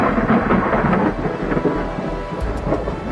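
Thunder from a lightning storm rumbles loudly and continuously over heavy rain, deep rolling booms close by with no voices.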